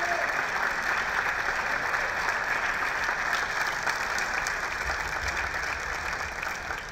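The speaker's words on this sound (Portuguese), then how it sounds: "E vamos aplaudir o Haroldo Costa, que é o nosso diretor" A crowd at an evening musical event applauds loudly and continuously, a dense wash of clapping that stays strong throughout and eases slightly toward the end.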